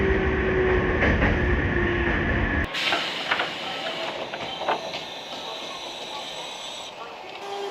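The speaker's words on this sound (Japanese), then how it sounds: "再び2両編成の電車に揺られます。" A two-car Nankai Shiomibashi Line train rumbles steadily from inside the carriage. A loud low drone drops away abruptly partway through into a lighter, rattling ride with faint clicks of the wheels.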